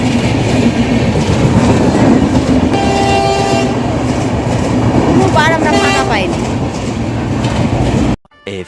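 A train rumbles loudly and close past a railway level crossing gate, with steady clattering of the wagons and a few horn toots partway through. The sound cuts off abruptly at the end.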